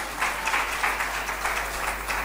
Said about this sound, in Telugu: చప్పట్లు కొట్టాలంటే కొట్టండి